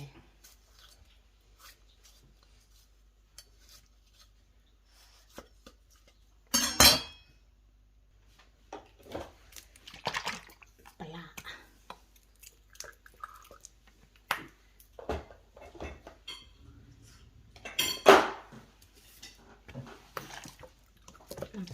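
Papaya salad with tamarind water is pounded in a mortar, giving sparse wet thuds and clinks with a couple of louder strikes, close and fairly quiet, amid light handling noise and soft speech.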